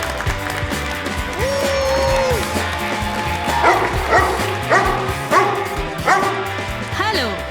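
A dog yips and barks repeatedly on a television talk show, with several short bursts over background music and a lively studio mix, accompanied by speech.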